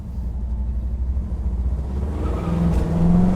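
A car engine rumbles close by as the vehicle drives and accelerates, the low drone rising in pitch and loudness toward the end, with no talking.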